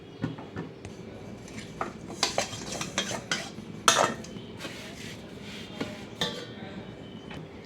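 Roasted ingredients for fenugreek laddu scooped from a pan into a vessel, a spoon scraping and clinking against metal in irregular close taps and rubs over a steady low background, with one louder clatter midway.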